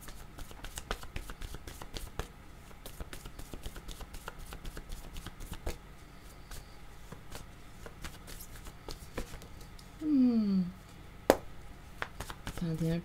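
Word cards are shuffled by hand in a long run of crisp, rapid flicking riffles and soft snaps, close and fairly quiet, with a short burst of voice partway through.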